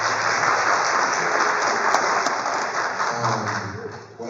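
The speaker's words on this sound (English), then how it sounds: "I give a hand clap for him" A high school audience applauds for a teacher during a Black alumni panel, a steady dense wash of clapping that holds loud throughout and tapers slightly near the end.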